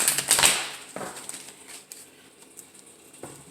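Tarot cards being shuffled during a reading, a burst of papery riffling and slapping near the start followed by softer intermittent card rustles, close and fairly quiet.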